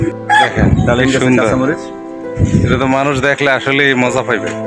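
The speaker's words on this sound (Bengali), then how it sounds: "তারপর খাঁচার ভিতরে দেশি মুরগি আছে। মুরগির ডাক তো আপনারা শুনতে পাচ্ছেন।" Local chickens kept in a cage on a breezy rooftop garden cluck and crow. The calls come through beneath someone talking loudly and almost continuously close by.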